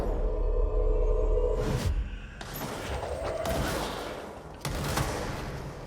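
Gunfire in the video game Control comes in heavy, loud bursts with booming impacts and whooshing tails over a dense game soundscape, and no one speaks.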